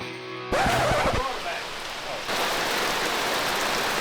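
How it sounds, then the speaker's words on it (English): Rain falls steadily in a backyard being landscaped, a dense even hiss of drops that starts abruptly after a brief quiet moment and continues throughout, close and moderately loud. "It's raining."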